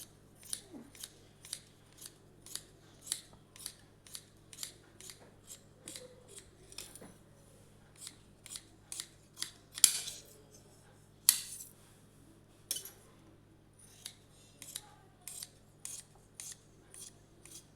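Scissors cut through fabric for a cross belt in a steady series of about two dozen crisp close snips, a little under one per second, with a low hum behind them and no talking.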